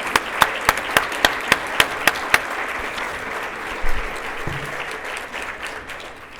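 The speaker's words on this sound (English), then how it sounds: "Let's give them a round of applause" Applause at a teacher of the year banquet, opening with a run of sharp, evenly spaced claps before blending into a steady crowd wash that carries on to the end.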